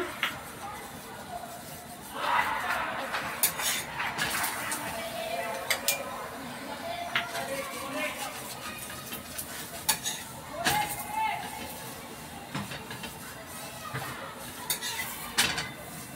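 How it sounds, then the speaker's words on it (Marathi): Methi paratha roasting in ghee on a pan, with metal spatula clinks and scrapes and a soft background sizzle, close by, while someone talks over it. "असे मी सगळे पराठे ना असे भाजून घेते मी"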